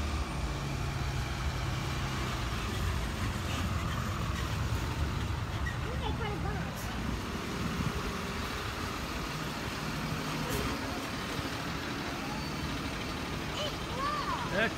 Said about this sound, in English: That's the delivery truck.